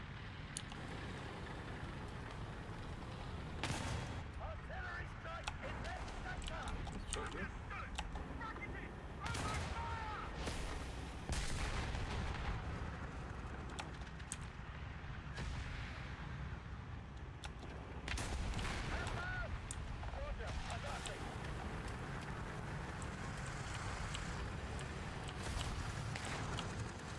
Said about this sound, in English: Artillery strike in this